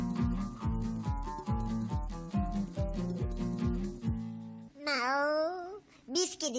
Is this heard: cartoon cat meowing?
yes